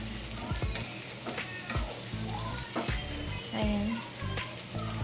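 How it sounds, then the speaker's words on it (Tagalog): Onion and garlic sautéing in a pan until golden brown, a close continuous sizzle and fry with stirring scrapes, while a person speaks briefly. "pag alam mo ng golden brown na yung sibuyas bawang, mabilis lang lutuin to guys. Igigisa mo lang."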